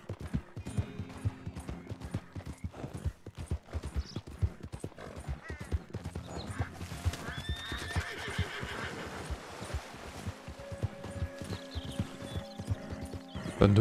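Horse hooves clip-clop steadily and close while riding through a gate in Red Dead Redemption 2, with an occasional neigh and game ambience underneath.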